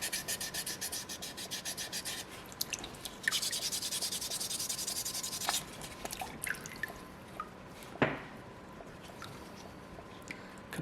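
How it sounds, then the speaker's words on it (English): Wet sanding of a soapstone seal carving with water, close rhythmic rasping strokes that start fast and continuous, then turn into sparse scrubs with wet drips and no talk. "I find I get a way better sanding finish when I'm using water as opposed to carving dry."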